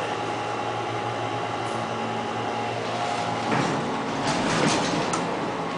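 A 1989 US hydraulic elevator runs at Terminal B of Kansas City International Airport, giving a steady mechanical hum and airy rumble with faint rattles and a brief swell of clunks near the end, no talking.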